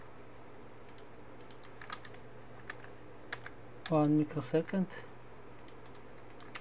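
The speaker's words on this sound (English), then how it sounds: "Now let's type" Clicky computer keyboard typing during circuit design work in LTSpice, quick irregular keystrokes close to the microphone over a steady hum, with a short burst of speech partway through.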